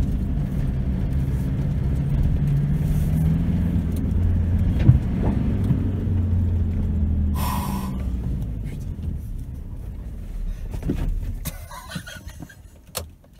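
A car with a manual gearbox drives over an offroad test track, its engine rumbling steadily up close with occasional knocks and bumps, easing off toward the end.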